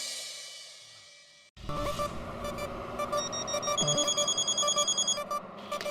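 A phone rings repeatedly in a steady electronic pattern after a brief quiet start, loud and close.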